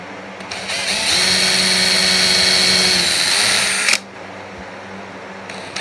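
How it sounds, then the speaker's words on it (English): A power drill with a bit pre-drills a screw hole in a walnut slab for a rustic towel holder, one close, sustained high whine of about three seconds that cuts off abruptly. "I'm going to go ahead and use a drill bit and pre-drill all those."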